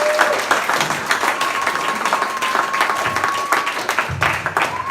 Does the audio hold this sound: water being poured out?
no